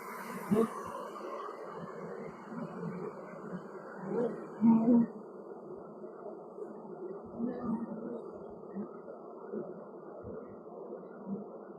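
Honey bees hum and drone steadily throughout a honey harvest, a continuous close buzz with occasional louder bursts and faint voices now and then.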